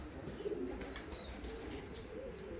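Soft, close cooing from a pair of black-winged fancy show pigeons, a few low throaty coos rising over a quiet room hum.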